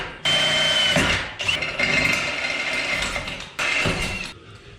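Power drill boring bolt holes through metal for a Blazer gas tank fitted into an S10 truck, three loud close bursts of grinding, whirring drilling separated by brief stops.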